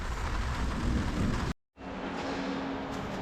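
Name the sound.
rain and thunder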